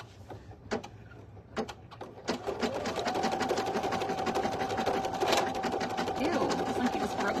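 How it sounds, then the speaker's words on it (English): A single needle embroidery machine stitches in a steady, fast mechanical rattle with a humming whine. It follows a few separate clicks, runs continuously at close range, and carries faint voices underneath. "I'm not the only one that like jumps when the machine makes a weird sound"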